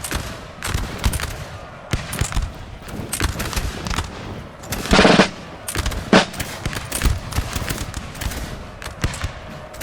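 Massed musket volleys crackle in a Napoleon Total War battle, dense overlapping pops and rolling bursts of gunfire at varying distances, with one louder, heavier burst near the middle, continuous for about ten seconds with no talking.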